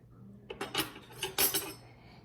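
Two metal spoons handled in a kitchen, producing a few quiet clinks and rattles in short bursts close by, with nothing else heard.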